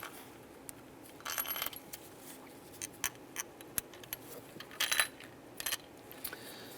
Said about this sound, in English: I'm going to go ahead and drop our 4 bolts in that we removed from the other throttle body.